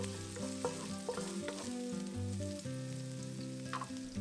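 Minced garlic stir-frying in hot oil for Thai pad see ew, a bright continuous sizzle with occasional stirring scrapes, heard under steady background music.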